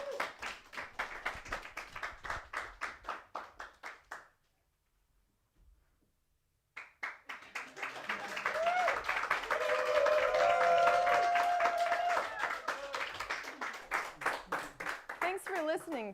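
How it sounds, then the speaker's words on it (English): An audience applauds performers leaving the stage at a live show, rhythmic claps breaking off into near silence, then returning as sustained applause that thins back into steady, even clapping. "Everyone else applaud."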